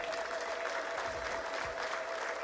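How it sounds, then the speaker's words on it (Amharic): Church congregation applauding with ululation during a sermon, steady dense clapping and a sustained high trilling cry over it, continuous throughout. "ለዚህ ጌታ እልልታና ጭብጨባ ይሰጠዋል"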